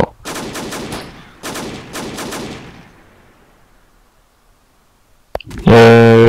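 Gunfire in the military shooter game ArmA II: two loud bursts of rapid automatic shots in the first two seconds, a decaying echo, then a sharp single crack and a loud harsh tonal burst at the end.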